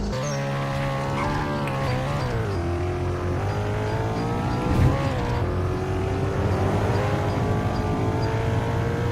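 Car pulling away from a standstill in first gear on an uphill road, engine note climbing steadily and loud up close, with a brief dip as the revs settle, then rising again throughout.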